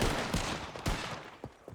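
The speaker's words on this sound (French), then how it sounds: "Il y a des coups de feu." Gunfire in a 1900-era roleplay video game, several sharp shots scattered irregularly over a short stretch, fairly distant and moderate in level against a noisy background.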